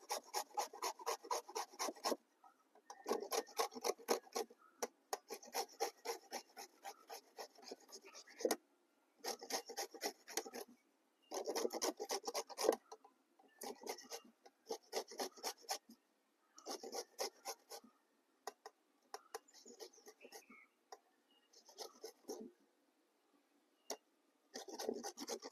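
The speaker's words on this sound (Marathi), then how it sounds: "आतमध्ये कुई असते त्यामुळे चारी बाजूने असं घेणार आहे किसून." A mango is rubbed against a grater in repeated rhythmic rasping strokes, grouped into quick bursts with short pauses between them. The grating is close and clear, with no talking.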